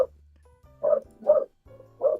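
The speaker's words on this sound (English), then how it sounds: "I heard the dog." Several soft, muffled dog barks come at a steady pace from a little way off, four short woofs spaced about half a second apart over a low hum, with no talking.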